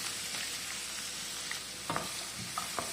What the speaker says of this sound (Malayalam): ജസ്റ്റ് ഒന്ന് നമുക്ക് വഴറ്റി കൊടുക്കാം